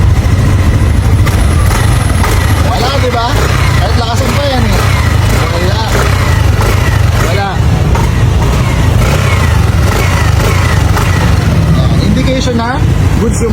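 A Honda Click 125 scooter with head gasket and overheating trouble runs loudly close by, its engine held and revved in a steady drone, with voices talking over it throughout.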